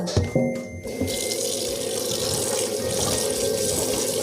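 Green mustard leaves being rinsed under a running tap into a sink of water, a steady close splashing flow that continues throughout after a brief clatter at the start.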